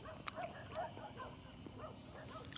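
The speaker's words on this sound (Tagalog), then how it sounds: "Bakit nagkakahula ng mga aso?" Dogs barking and yipping outdoors, several short, faint barks scattered through a quiet outdoor background, distant rather than close.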